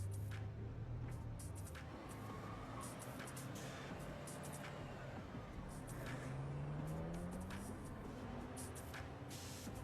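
Car engine droning steadily at speed through a tense chase, with rising and falling engine pitch and road rumble continuous throughout, faint clicks above.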